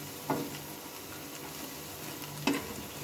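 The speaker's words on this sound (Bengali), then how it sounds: "উল্টে পাল্টে লাল লাল করে ভেজে নেবে" Jackfruit seeds fry in a little oil and are turned until reddish. A low, steady sizzle runs throughout, broken by two brief stirring scrapes near the start and end, with no talk.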